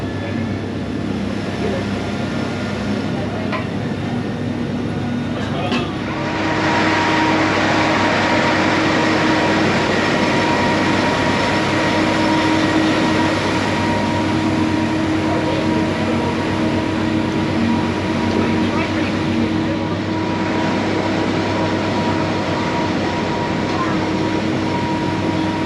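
Mountain train climbing a steep incline near Mont Blanc, a steady loud mechanical rumble and rolling clatter that swells after the first few seconds and carries on continuously, with wind-like noise over it.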